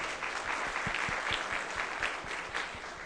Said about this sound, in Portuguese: Podem bater palmas aqui, Bruno.